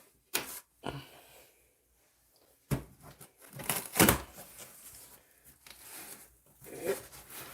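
A box cutter slices open a cardboard delivery box holding a Gunpla model kit order, giving several separate rasping tears and scrapes in uneven bursts, close and fairly quiet with short pauses between strokes.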